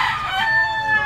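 A rooster crows on a chicken farm, one loud, close, drawn-out call with no speech over it.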